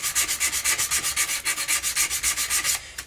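Stainless steel guitar frets sanded with 240 grit sandpaper, producing a loud, close, steady back-and-forth rasp of about twenty quick strokes that stops just before the end, with no voices.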